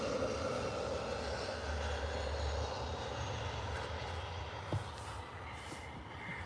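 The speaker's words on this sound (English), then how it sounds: "This is our EasyJet A320 214 from Belfast" An EasyJet Airbus A320 arrives at Liverpool Airport, its jet engines a steady, moderately distant rumble and whine that slowly fades.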